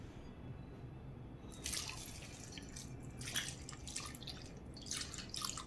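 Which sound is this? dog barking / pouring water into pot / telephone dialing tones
pouring water into pot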